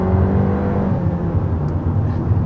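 A 2022 Honda Civic's 1.5-liter turbocharged four-cylinder engine drones steadily while driving, a smooth, continuous low hum with road noise heard from inside the car, no voices.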